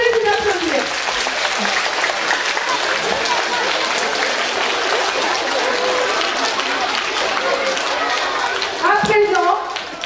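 An audience at an environmental gathering applauding itself: loud, dense clapping sustained throughout, with crowd voices and cheers mixed in near the end.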